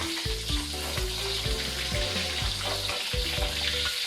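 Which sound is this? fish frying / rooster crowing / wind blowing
fish frying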